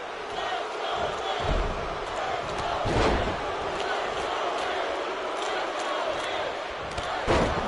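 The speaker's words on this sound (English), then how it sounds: "the crowd are doing "Let's Go Miz" chants" A wrestling arena crowd chants "Let's Go Miz" in WWE 2K20, a loud, sustained roar of many voices with a few sharp impacts mixed in.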